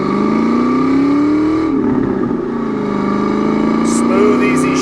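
One-owner 1992 Ford Mustang GT with a 5-speed manual and 55K miles pulls forward on a test drive, its engine droning steadily and loudly with a brief dip partway through.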